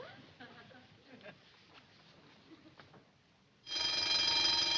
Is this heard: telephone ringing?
yes